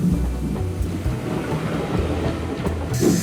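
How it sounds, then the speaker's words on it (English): A steam train passes on a railway with a close, low rumble and rhythmic clatter of wheels, heard briefly and with no talk. "the first train of the day appears"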